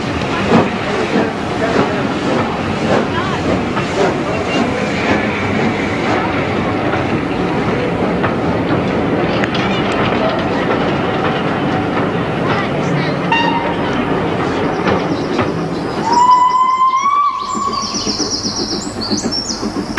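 A North Yorkshire Moors Railway steam train runs through moorland with a steady rumble and clatter of carriages throughout, while a narrator talks over it. Birdsong rises near the end as the train sound thins out.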